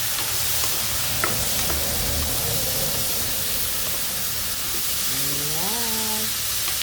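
Bottle gourd and potato being stirred in a frying pan, a steady soft sizzle with occasional scraping and a brief tonal squeak near the end.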